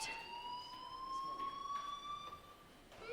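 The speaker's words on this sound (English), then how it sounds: "do you hear that fire alarm?" Fire alarm in the video game Life is Strange: a steady, piercing electronic tone with faint overtones that drifts slightly in pitch and sounds continuously for about three seconds against a quiet background, with no talking.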